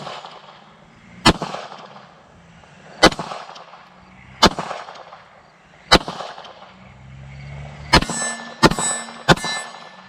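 Pistol shots from a Palmetto State Armory Dagger Compact with an OverWatch Precision Poly trigger fired at steel gong targets outdoors, about seven sharp cracks spaced irregularly, the last few in quicker succession, with faint ringing between.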